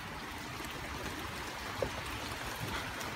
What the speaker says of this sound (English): Oh, it's fucking pouring